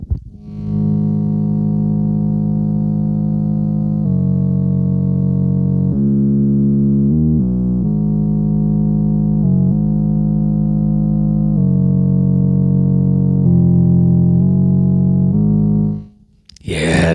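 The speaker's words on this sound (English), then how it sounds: "the Moog synthesizer, which Bear brought. A real Moog, not a sampler" A real Moog synthesizer holds a sustained, buzzy, distorted tone that shifts pitch in steps for about sixteen seconds, loud and steady before cutting off abruptly.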